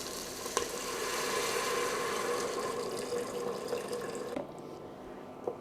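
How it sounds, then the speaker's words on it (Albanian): Hot water poured into a pot of cooked-down onion and tomato, a steady rushing, bubbling wash close by that runs for several seconds, then quickly cuts off and leaves a quieter simmer. "tashti do t'i hudh ujin e nxehtë"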